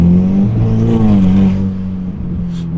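A Ferrari 488 Pista on the road gives a loud, close engine drone that swells briefly and then settles into a steady hum.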